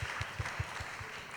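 Applause at a youth ocean conservation STEAM competition, a fairly faint wash of clapping with a few sharper low thumps recurring at a steady rhythm.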